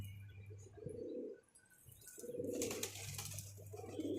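Pigeons coo close by in soft, throaty bursts, several rounded calls repeating with short pauses, with faint rustling in between.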